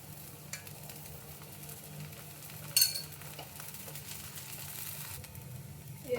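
Oil sizzling on a pan as a rava dosa made with chiroti rava fries, a steady soft hiss throughout with one brief scrape or clink partway through.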